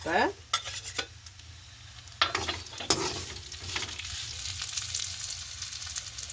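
Curry leaves dropped into a hot pan for prawn curry, bursting into a sudden crackling sizzle with sharp pops, then clattering stirs of a spoon against the pan over a softer continuing fry.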